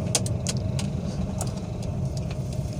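A car's engine revs in short bursts while the vehicle sits stopped and nearly out of petrol, with brief rising surges over a steady low idle rumble.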